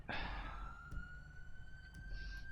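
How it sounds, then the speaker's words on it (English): An emergency vehicle gives a short siren blip, a quick rising wail that settles into a steady tone, heard from a moderate distance over road noise. "they just blip their siren"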